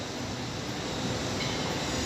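Trains idling and moving at London Paddington station give a low, steady rumble with a constant mechanical hum under the open station space, no talk.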